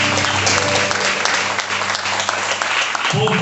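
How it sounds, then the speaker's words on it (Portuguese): A church congregation at an evening prosperity seminar in Lavras claps together in a loud, dense burst of applause that runs steadily throughout, ending with a brief cut. "Vamos aplaudir o Cristo."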